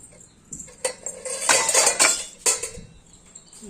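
Metal dishes and cutlery clatter and clink close by in quick, irregular bursts, loudest in the middle, with no talking.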